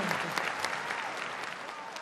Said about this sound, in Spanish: quiero arrancar con ese aplauso para ustedes, justamente